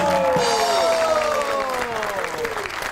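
A studio audience applauds and cheers to welcome the guest Javed Kodu onto a comedy show, a continuous wash of clapping under gliding musical tones of a show jingle, with no speech heard.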